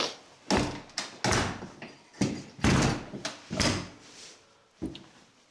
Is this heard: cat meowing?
no